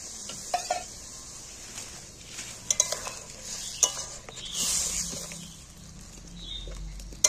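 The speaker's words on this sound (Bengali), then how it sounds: "এবার জল দিয়ে দিচ্ছি একটু, ঢ্যাঁড়সটা সেদ্ধ হওয়ার জন্য।" Okra cooking in a pan with a little water added, giving a continuous soft sizzle with light stirring and occasional sharp clinks of a utensil, close and steady, without speech.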